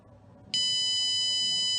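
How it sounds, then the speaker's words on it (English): After a half-second of quiet room tone, a smart-classroom buzzer signalling the end of exam time cuts in and holds as a loud, steady, high electronic tone. "a buzzer is supposed to go off to notify the students that the exam time is over"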